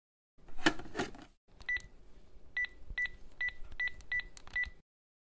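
A wall-mounted telephone being dialed: a burst of handling clatter, then a series of six or seven short dialing tones in an uneven rhythm, close and clear with a low room hum beneath and no speech.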